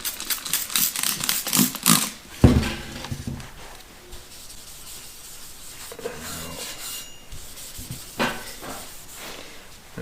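Scotch-Brite pad rubbed over a cleaned metal fireplace mantel shelf before a patina is applied, giving bursts of raspy scrubbing strokes, close and fairly loud, with quieter gaps between passes.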